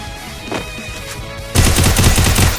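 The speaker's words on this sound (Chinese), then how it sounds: "哦，拿冲锋枪打了" A submachine gun fires in Free Fire's zombie siege mode: a loud, rapid automatic burst with closely spaced shots that starts suddenly after a quiet lead-in and runs for about a second.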